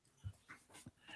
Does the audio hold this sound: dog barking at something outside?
yes